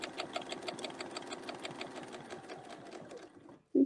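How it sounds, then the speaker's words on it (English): A sewing machine stitches steadily back along a line on a quilt, its fast even needle rhythm running close and loud for several seconds before stopping abruptly. "and then we'll just sew right back down the line"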